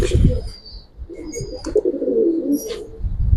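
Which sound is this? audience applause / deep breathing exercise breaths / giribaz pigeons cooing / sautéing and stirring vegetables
giribaz pigeons cooing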